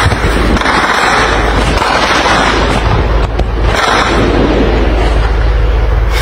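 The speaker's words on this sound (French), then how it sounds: "On peut voir en tout cas des tirs d'armes lourdes." Heavy and light weapons fire at night in Goma: a continuous, loud wash of rumbling blasts and crackling reports, with sharper bursts standing out against a dense background.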